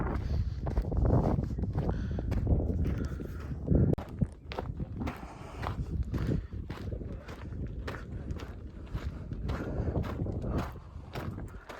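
Strong wind buffets the microphone on a hiking trail with friends and family, a steady low roar with gusts, while footsteps crunch along.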